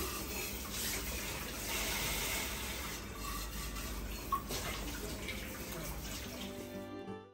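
Filtered water runs steadily into jars for several seconds, a continuous close splashing flow with a brief clink partway through, then it stops.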